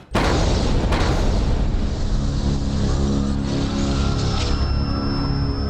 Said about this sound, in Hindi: पुरानी दिल्ली में एक ऐसा धमाका हुआ जिसमें एक बड़ा नरसंहार हुआ।